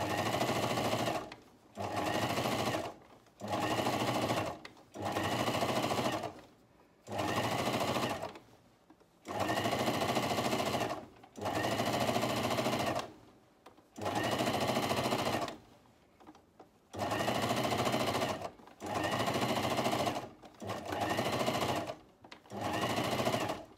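A sewing machine stitches along a seam of a tee in repeated bursts of rapid whirring a couple of seconds long, separated by short pauses, close and steady with no talking.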